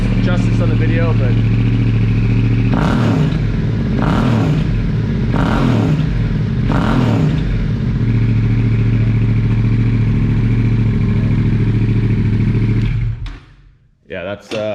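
A Yamaha Tenere T700 motorcycle engine running loud and close, with several blips of revving before settling to a steady idle and cutting off near the end.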